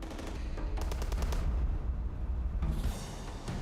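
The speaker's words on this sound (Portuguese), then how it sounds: "Dois piratas estão no convés principal, disparando tiros para o alto." Rapid bursts of gunfire ring out in quick succession over a dense, noisy background, loud and sustained across the clip, as Somali pirates fire shots into the air from a ship's main deck at sea.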